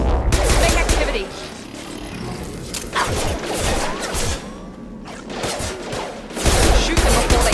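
Rapid bursts of gunfire and explosive crashes from the sci-fi shooter game Mass Effect 2 in a loud, busy battle, with a few shouted voices in the mix.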